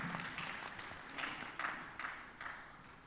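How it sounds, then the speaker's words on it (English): Scattered applause from a small crowd at a panel discussion, a few bursts of clapping rising and falling over about three seconds, moderately distant. "Please, let's give her a round of applause as she comes up."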